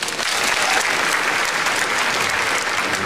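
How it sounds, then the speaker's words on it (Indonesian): Studio audience at a celebrity stand-up comedy competition gives loud, continuous applause for three comedians, a dense uniform roar of clapping from start to finish. "Tepuk tangan buat mereka bertiga."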